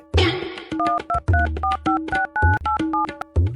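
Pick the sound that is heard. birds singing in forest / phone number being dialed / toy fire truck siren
phone number being dialed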